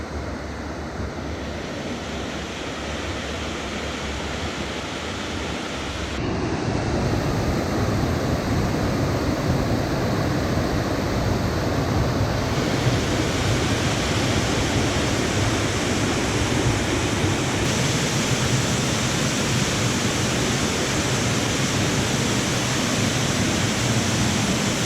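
A waterfall in western North Carolina, a loud, dense, unbroken rush of falling water that grows fuller after a few seconds and then holds steady, with no voices.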